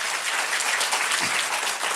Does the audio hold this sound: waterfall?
no